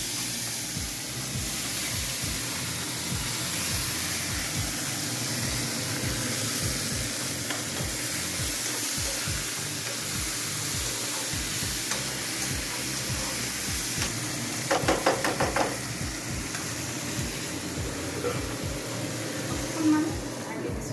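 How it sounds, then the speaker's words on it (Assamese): Tomatoes frying in hot oil for an Assamese fish curry, stirred in a steady, fast rhythm of scraping strokes under a constant sizzle, close and fairly loud, with a brief burst of sharper clatter midway. "এতিয়া ইয়াত তেলত দিম মই বিলাহী।"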